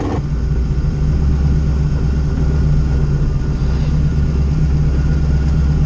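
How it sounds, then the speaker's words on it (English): A Ford Mustang engine idles outdoors, a loud, steady low rumble with an even drone that holds without revving for several seconds and has no voices over it. "Got the Mustang running. It's out here idling."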